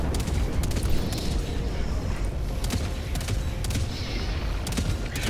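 Tachanka turret in Helldivers 2 firing at swarming Terminids, a steady dense stream of rapid gunfire with sharp bursts standing out over a continuous loud rumble of battle.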